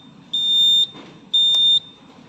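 Smoke alarm on a logistics warehouse safety panel, set off after a sprinkler was opened, sounding two loud, steady high-pitched beeps about a second apart with low background hum between them.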